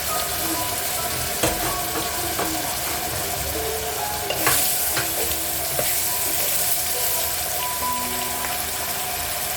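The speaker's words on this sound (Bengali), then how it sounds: "এর মধ্যে এবার আদা রসুন বাটা দিলাম 1 চামচ করে।" Ginger-garlic paste sizzles and spits in hot oil over fried onions in a pan, a steady close frying hiss broken by scraping stirs and occasional louder spatters, with no one talking.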